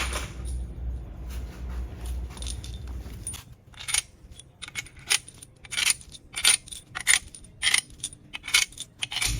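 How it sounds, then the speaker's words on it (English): Bolts are installed on a K24A engine block, and the sound starts with a low hum before a string of sharp metallic clinks and taps that rattle close by. "We install bolts."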